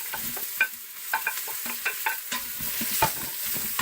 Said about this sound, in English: Sauté the onion in a heated pot with about a tablespoon of olive oil